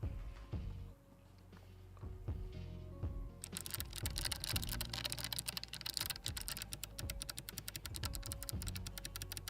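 Typing on a clicky mechanical keyboard fitted with Kailh white switches, heard up close as a dense, rapid patter of sharp clicks. Sparse keystrokes at the start give way to fast continuous typing, with no talking.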